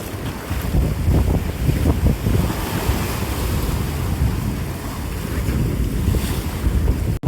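Sea waves surge and wash steadily along the Konkan coast, a loud, continuous roar of surf mixed with gusting wind buffeting the microphone, with no voices.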